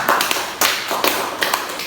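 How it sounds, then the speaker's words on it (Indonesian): A classroom group claps for a student team during a lesson on energy, with bursts of hand claps that rise and fall in uneven clusters, close and fairly loud. "kita beri tepuk tangan untuk kelompok 4"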